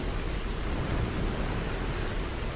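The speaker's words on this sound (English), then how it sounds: "The rain continued to pour, making it harder to see." Heavy rain pouring steadily during a storm, a dense, even roar of drops that holds constant throughout, with a low thunder rumble beneath and no voices.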